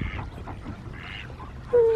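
Ducks quacking outdoors in New Zealand: a few soft, raspy calls at moderate distance, ending in a louder, sustained honking note, with faint ambient murmur underneath.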